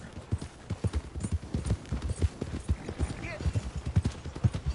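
Horse hooves clip-clopping in steady rhythm as a rider trots along in Red Dead Redemption 2, close and moderately loud, with a brief whinny partway through and game voices in the background.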